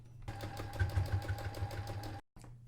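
A sewing machine stitching a handmade plushie runs as a steady, close mechanical whir with a fast rhythmic needle chatter, stopping abruptly near the end and then starting up again.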